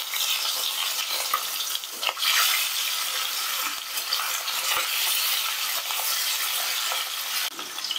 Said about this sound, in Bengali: এক পিঠ ভাজা হয়ে গেছে, অপর পিঠটা আমি উল্টে দিচ্ছি।